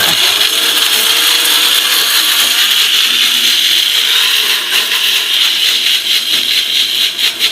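A Sujata blender runs continuously with a loud, steady motor whir and rattling grind that fluctuates slightly toward the end, close by with no speech.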